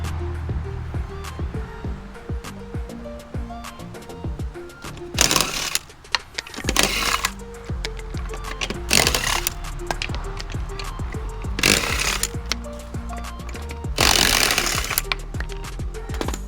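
Car wheel lug nuts being broken free with a power impact tool, several loud bursts of rattling hammering spaced a few seconds apart over a steady background hum.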